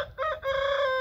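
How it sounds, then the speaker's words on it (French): Two Colombian Blue hens at close range give a short, loud, tonal cluck-like call that breaks briefly and then sustains, standing alone. "Alors on a 2 poules juste ici."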